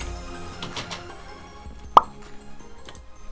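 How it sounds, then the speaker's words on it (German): In the Minecraft video game, a chicken lays an egg with a single short, crisp plop, heard alone over quiet ambient game sound. "dieses Plopp-Geräusch, wenn die Hühner mal ein Ei legen"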